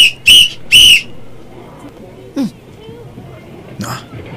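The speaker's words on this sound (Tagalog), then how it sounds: "Usban ako pito." A referee-style whistle is blown twice in quick succession, loud and close, followed by quieter background sounds and one faint later chirp.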